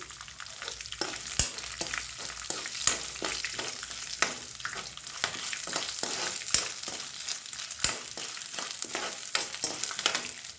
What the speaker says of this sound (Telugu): ఇప్పుడు ఎండుమిరపకాయలు వేస్తున్నానండి.